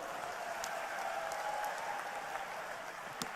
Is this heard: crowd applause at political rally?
yes